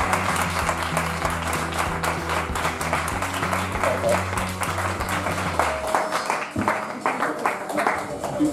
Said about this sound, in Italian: chiedo veramente a voi un applauso per voi stessi